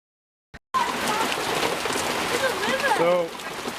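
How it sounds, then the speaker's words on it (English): A torrential rain downpour pours outside at an outdoor build site, a loud, dense, steady hiss that starts abruptly after a brief knock, with a person's voice breaking through near the end. "We're having a torrential downpour."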